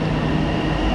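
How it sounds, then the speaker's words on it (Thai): Electric train in Thailand, arriving around Phra Nang Klao station, with a steady loud rumble of a rail car running at close range, throughout and alone. "รถไฟฟ้านะครับนี่นะครับ"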